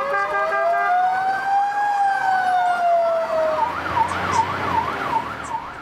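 Fire engine siren wails and then switches to a rapid yelp, loud and close, stuck in congested road traffic with engine rumble underneath.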